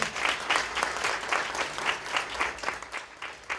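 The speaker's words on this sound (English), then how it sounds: "Can we give them a last round of applause?" An audience gives a steady round of applause at a university law and society conversation event, many hands clapping evenly at moderate distance, with no talking.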